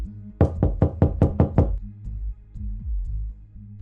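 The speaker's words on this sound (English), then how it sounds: "racing to his house and pounding on the door" A rapid burst of about seven hard, pounding knocks on a door, close and loud, followed by softer, fainter thumps over a low background.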